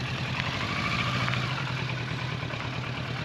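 A motorcycle engine idles at a standstill with a steady, even low rumble, close and continuous for a few seconds with no talk.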